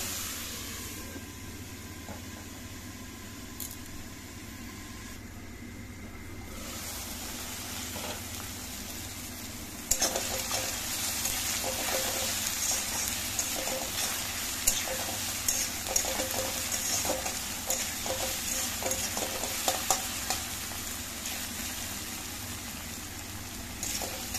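Onion and garlic frying in a pan, with a steady sizzle that grows louder and more crackly partway through, broken by occasional stirring scrapes.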